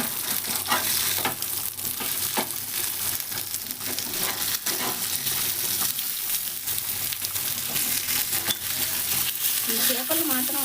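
Thick pieces of fish frying in oil in a pan for Nellore fish curry, with a steady, dense sizzle and crackle running throughout at close range, plus occasional stirring clinks.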